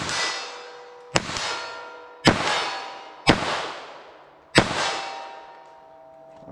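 Four sharp, loud reports from a Magtech .38 Special revolver firing wadcutter rounds at a target 25 yards away. Each blast rings out and decays, spaced roughly a second apart, with no talk.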